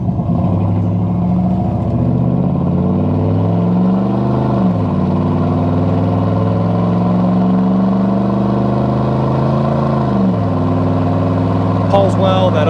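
1995 Chevrolet C1500 Silverado with a throttle body injected 5.7 engine accelerating on a test drive, pulling through rising revs with two clear overdrive transmission shifts, loud and continuous from inside the cab.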